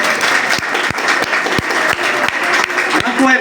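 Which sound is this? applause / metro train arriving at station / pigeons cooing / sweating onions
applause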